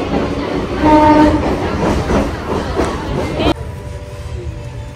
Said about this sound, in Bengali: ফাইনালি আমরা চলে আসলাম হাবড়া স্টেশনে